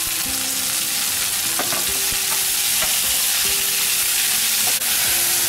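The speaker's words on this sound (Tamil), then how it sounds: "இப்போ கொஞ்சம் வெங்காயம் வந்து வதங்கிட்டு இப்போ வந்து கீரையை சேர்க்கலாம்" Onions sautéing in a pan with asafoetida for a radish-greens dal, a loud steady sizzle with intermittent stirring clinks and scrapes, close up and without talk.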